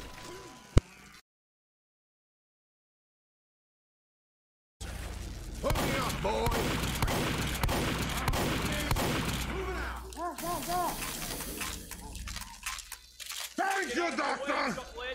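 Shotgun fire in Team Fortress 2 Mann vs Machine, rapid repeated gunshots and clattering combat effects layered with game noise after a stretch of silence, with a voice talking over the action.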